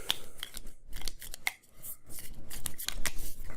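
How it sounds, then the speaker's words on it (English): Board game cards for PARKS being shuffled by hand, a run of quick papery riffles and rustles lasting a few seconds with a brief pause midway, close and fairly loud, with no talking. "Then we shuffle them."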